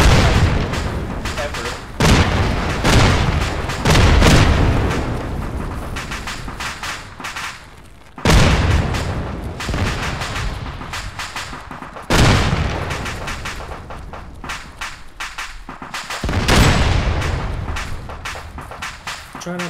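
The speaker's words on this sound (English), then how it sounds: "try not to look at the explosion." Repeated explosions and heavy gunfire in the military shooter Arma on the Malden map: several loud booming blasts roughly every four seconds, each with a long rumbling decay, over continuous combat noise, with voices talking.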